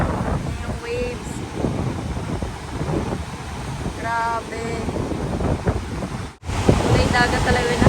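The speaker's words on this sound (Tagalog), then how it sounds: "Yung waves." Sea waves washing onto a shore, heard as a steady rushing wash under strong wind buffeting the microphone, with a voice talking briefly over it.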